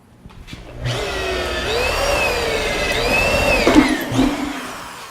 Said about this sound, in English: So I like to drill my pilot hole before I put the hole saw on.